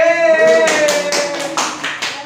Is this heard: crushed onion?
no